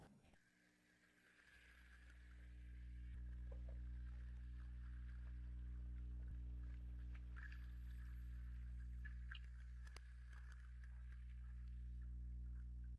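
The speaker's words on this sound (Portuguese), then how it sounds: "agora vou registrar o som dinâmico enquanto o barco acelera, não só o ruído do empuxo estático" Underwater recording of a custom-built boat propeller as the boat accelerates, a strong low hum with stacked steady tones that swell after a quiet start and hold, with faint splashes and clicks above.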